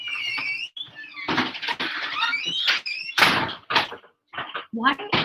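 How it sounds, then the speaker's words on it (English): A door is slammed shut in a home, giving sharp, loud bangs amid clattering and voices talking nearby. "Why do they think they have to slam the door to close it?"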